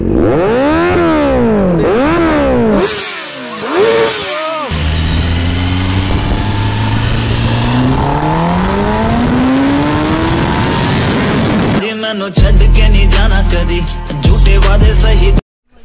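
A Kawasaki Ninja ZX-10R sportbike revs in sharp repeated bursts, then pulls away in a long rising engine sweep while riding, ending with a loud, close roar that cuts off abruptly.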